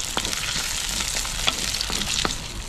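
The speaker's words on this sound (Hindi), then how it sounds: "प्याज और हरी मिर्च को थोड़ा सा लाल करके भून लेंगे।" Onion and green chilli fry in hot oil with panch phoron and asafoetida, giving a steady close sizzle broken by sharp crackles and pops and an occasional stir, with no talking.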